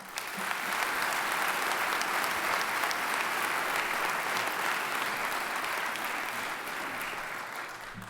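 Steady applause from an audience at a Medal of Valor ceremony for corrections staff, a dense even wash of clapping that holds for several seconds before slowly thinning.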